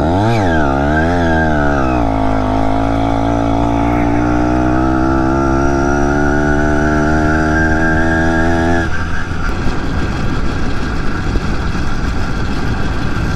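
A BT100 motorized bike engine running loud and close, its buzzing pitch rising and falling in a few revs before settling into a steady drone, then turning rougher and noisier.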